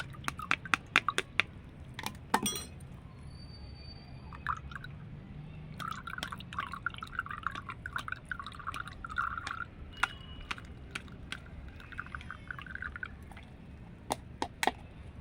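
A thick homemade bitter gourd, turmeric and ash pesticide is strained through a kitchen sieve, with soft wet drips, scraping and sloshing, plus scattered sharp taps of the utensil against the strainer.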